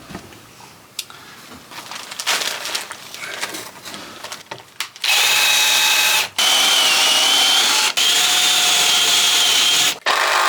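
A power drill bores pilot holes into an old oak purlin during a cottage renovation. After a quieter lead-in, a loud, steady, high whine runs in long bursts, cut by brief pauses between holes.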